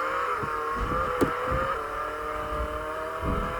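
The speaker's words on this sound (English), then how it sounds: "This car is pretty fast." A fast car in the Roblox game Jailbreak drives along with a steady, droning engine tone, broken by a few short thumps and one sharp click, heard alone with no voices.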